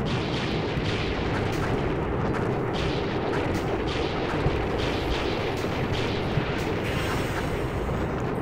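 Massive wartime bombing campaign of Iraq in the strategy game The Operational Art of War IV, a continuous dense rumble of artillery-like blasts and booms that fills the whole stretch at steady loudness, with no pauses and no talk.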